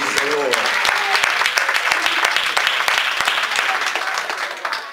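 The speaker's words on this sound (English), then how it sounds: "Somebody clap your hands and praise the Lord." A church congregation claps their hands in praise during a sermon, a dense, sustained burst of many hands with voices calling out over it, fading slightly toward the end.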